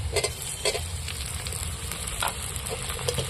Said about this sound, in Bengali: টমেটোটাকেও একটু করা করে তেলের মধ্যে ভেজে নেব